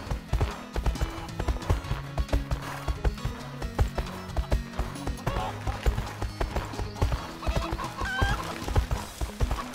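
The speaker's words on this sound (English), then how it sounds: "Chickens are eating the corn!" Chickens cluck repeatedly in the video game My Horse & Me over a rhythmic clopping soundtrack, with scattered short blips; steady and moderately loud, with a voice speaking at times.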